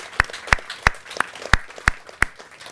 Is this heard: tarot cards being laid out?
no